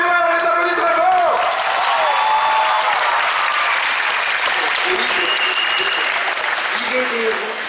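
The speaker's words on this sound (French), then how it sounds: "Les applaudis très fort." A loud crowd cheers and applauds for a Masters of the Universe cosplay group at a convention, with whoops and shouts over sustained clapping and some voices mixed in near the start.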